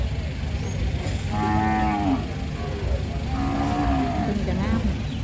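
Cattle low repeatedly at a busy livestock market in Roi Et, Thailand, two long moos rising over steady crowd noise and background chatter.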